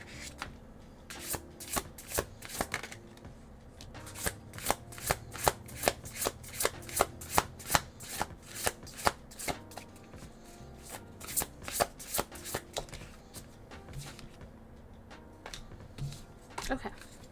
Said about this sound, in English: I did already shuffle a little bit